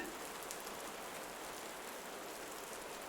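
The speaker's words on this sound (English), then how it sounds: "The rain is coming down, covering everything," Steady rain falls in a constant, even hiss of many drops, close and unbroken from start to finish, with no voices.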